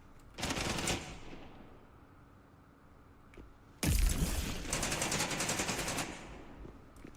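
Automatic weapon fire in the video game Apex Legends comes in two loud rapid bursts, a short one and then a longer sustained volley. A quiet pause separates them.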